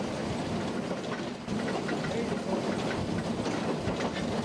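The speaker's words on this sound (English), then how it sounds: "The train then heads off again for the trip to Halls Creek" A rack railway train climbs a 1 in 16 gradient, rumbling steadily with a continuous mechanical roar and faint rhythmic clatter, close by and fairly loud throughout.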